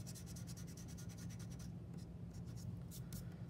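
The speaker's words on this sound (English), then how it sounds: "next step, erase what's underneath" Pencil lines being erased on paper while drawing a leaf contour: quick, rhythmic back-and-forth rubbing strokes, close and steady at first, then sparser scrubs after a short pause.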